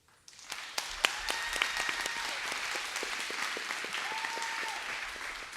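Audience applause at a Kuchipudi dance recital (rangapravesam), a broad steady wash of many hands clapping that swells in quickly and holds throughout, with a few sharper individual claps standing out near the front.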